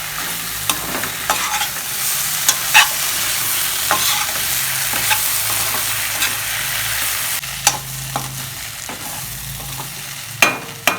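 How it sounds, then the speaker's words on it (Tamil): Raw plantain and tomato sautéing in a pan for a Tamil plantain fry: a steady sizzle runs throughout, broken by sharp scrapes and clicks of a spatula stirring, with no talking. "இந்த தக்காளியும் கொஞ்சம் நல்லா வதங்கட்டும்."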